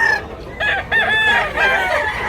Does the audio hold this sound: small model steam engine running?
no